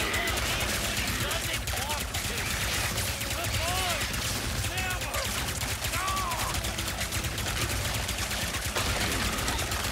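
Blast pistol fire in Ratchet and Clank: Rift Apart, a dense run of rapid sci-fi shots over a steady layer of game music and effects throughout.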